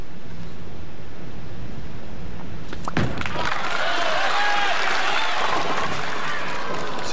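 Crowd cheering and clapping for bowler Mark Williams at the 1996 PBA National Championship, swelling suddenly after a quieter stretch into a broad, roaring wash of applause that carries on to the end.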